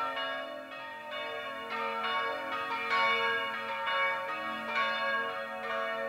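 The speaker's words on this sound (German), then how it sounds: "Und die Glocken läuten immer noch den Abend ein." Church bells in the Bavarian village of Perasdorf near Straubing ring the evening bell, a sustained, rich peal of overlapping strikes that swells and continues steadily throughout, with no voices.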